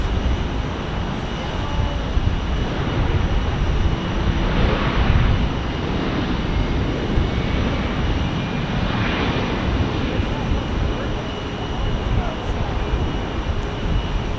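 A jet airliner from Burbank arriving at Phoenix Sky Harbor Airport, its broad engine roar steady and loud throughout, swelling slightly in the middle, with wind noise mixed in.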